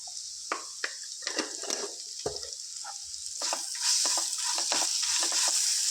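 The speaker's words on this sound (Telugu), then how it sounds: "అల్లం వెల్లుల్లి పేస్ట్ పచ్చివాసన పోయేంత వరకు ఈ విధంగా ఫ్రై చేసుకోవాలి" Ginger garlic paste frying in a pan for a brinjal and prawn tomato curry, with a soft sizzle under repeated scraping and stirring strokes of a spoon against the pan. It is close and moderately loud, with no voices.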